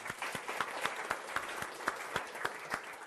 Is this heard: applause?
yes